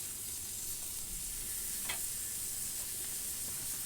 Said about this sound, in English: Dropping those on the Blackstone.